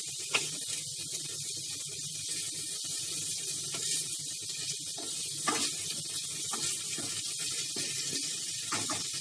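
Spiny gourd (kakora) sabzi sizzling steadily in a pan, a continuous bright hiss of frying with small crackles and pops throughout, close by and moderately loud with no talking.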